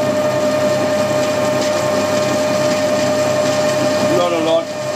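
A screw-cutting lathe tool is ground on a motor-driven grinding stone, a steady, loud mechanical whir with a constant hum that continues unbroken, dipping slightly near the end.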